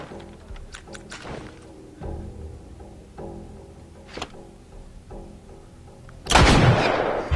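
Gunfire in The Last of Us from an enemy armed with a pistol: several sharp, separate shots spaced irregularly, with a louder burst of impact near the end and no talking.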